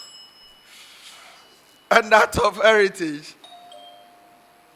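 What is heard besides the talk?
contestants ringing their bells in a quiz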